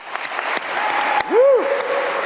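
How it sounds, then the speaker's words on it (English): Conference keynote audience applauding the U.S. Imagine Cup first place team, a dense burst of clapping with a voice speaking over it and a short whoop near the middle. "let's give them a really big round of applause"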